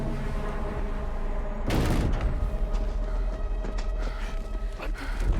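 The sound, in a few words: gunfire in the video game Death Stranding 2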